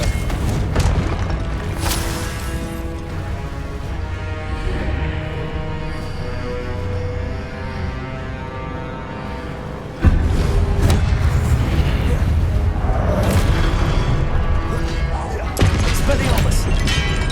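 Confringo fire spell explosions in Hogwarts Legacy on PC, a series of booming blasts and crashing impacts over a continuous game background, with a sharp jump in loudness partway through.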